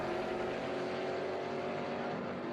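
Mercurio's race car with side pipes runs quick at Watkins Glen during a SpeedTour race, a sustained, fairly distant engine drone that holds steady without talk.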